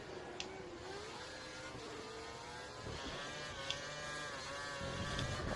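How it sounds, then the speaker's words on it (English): A Formula 1 car engine in the racing game F1 2013, at the Bahrain circuit, drones at a high pitch that rises and falls with the throttle. It stays steady and moderately faint throughout, with no one talking over it. "I'm getting so close to Grosjean now that I can hear his engine louder than mine."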